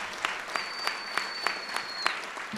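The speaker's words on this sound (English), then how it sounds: "So let's give a round of applause to our borough president." An audience gives a round of applause at a community leaders' gathering, a sparse, light patter of claps with a few sharper individual hits, set back in a room with a faint whistle-like tone over it.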